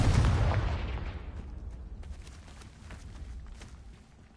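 A Confringo fire spell explodes in Hogwarts Legacy with a loud, booming blast that fades over a few seconds into scattered crackles and pops.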